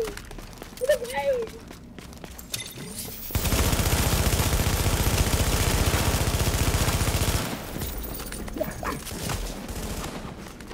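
Sustained rapid gunfire from The Division video game roars loudly for several seconds in a dense, rhythmic burst, with quieter game noise and scattered sounds before and after.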